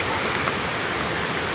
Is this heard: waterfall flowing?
yes